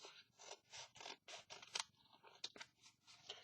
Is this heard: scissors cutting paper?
yes